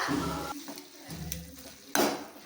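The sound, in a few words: stirring spice masala into frying drumstick leaves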